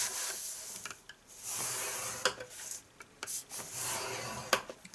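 Paper being scored with a tool for the base of a handmade gift box, giving repeated scraping strokes separated by short pauses and small taps, close and quiet with no talk.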